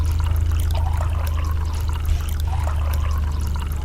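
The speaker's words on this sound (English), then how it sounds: "we quite literally just dump it in the sink and run cold water over it" Cold tap water pours steadily into a sink over freshly boiled eggs, a continuous close splashing stream with a low hum underneath and a brief knock partway through.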